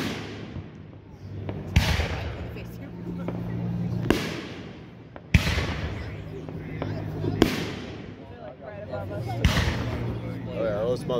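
Firework shells burst at an outdoor show, about five loud booming explosions spaced a couple of seconds apart. Crackling tails follow each boom, and voices are faintly present.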